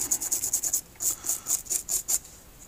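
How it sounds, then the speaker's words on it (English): A hand rubs back and forth across a painted item to weather and fade the paint, making a close rasping friction sound in two quick bursts of repeated strokes. "So what I'm going to do is just going to rub our hand across it."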